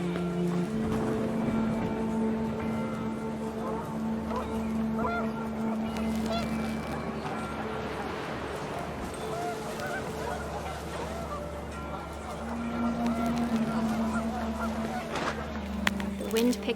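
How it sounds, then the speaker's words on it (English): Panicked geese honk repeatedly and loudly as the wind picks up in the video game What Remains of Edith Finch, against a rumbling outdoor background, with speech mixed in. "The wind picked up, and panicked geese appeared and quickly went"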